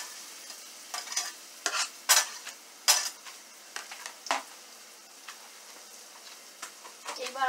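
A spoon stirs ginger frying in a pan for jhinge posto, with intermittent scraping strokes and clinks against the pan over a faint sizzle, close and irregular.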